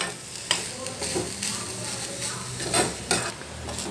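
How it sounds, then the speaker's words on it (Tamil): Grated coconut dry-roasted in a pan, a spatula turning it in regular scraping strokes about every half second over a low continuous sizzle, close and moderately loud. "தேங்காயில் இருக்கிற ஈரப்பதம் போகிற அளவுக்கு வறுத்தா போதும்."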